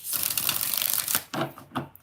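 Tarot cards are shuffled in quick riffling bursts, a dense crisp run followed by a few shorter flicks near the end, close and alone.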